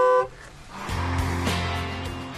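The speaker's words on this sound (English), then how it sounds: "To avoid startling pedestrians and cyclists when using the horn, there is a second, muffled version" Opel Ampera electric car sounding its muffled second horn, a short, soft tonal toot lasting about a second and a half, close and moderate in loudness.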